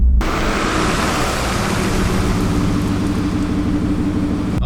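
A 750-horsepower Shelby F150 pickup launches hard in all-wheel drive, a loud, sustained, roaring engine and road noise filling the cabin steadily for several seconds with no talk.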